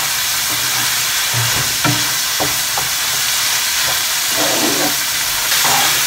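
Garlic sizzling in a hot pan alongside meat, a loud steady frying hiss broken by scattered stirring knocks and scrapes.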